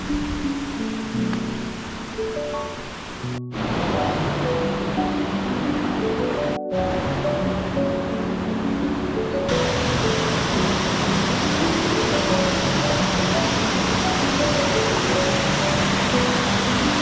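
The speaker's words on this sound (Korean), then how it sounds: "마침내 도착한 간에서 폭포." Steady broadband roar of a waterfall reached along a mountain trail in Jirisan, constant and fairly loud throughout with a few brief dropouts early on, no voices.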